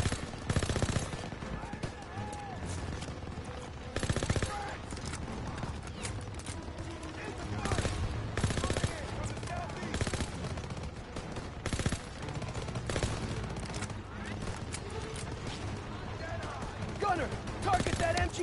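MG-42 machine gun fire during a World War II assault in the Call of Duty WW2 campaign, with dense continuous gunfire, explosions and battle noise throughout, while soldiers shout orders over the din.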